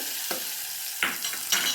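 A hot spiced tempering is poured into sambar, producing a bright crackling sizzle with three sharp bursts of spattering, near and fairly quiet, and no voices.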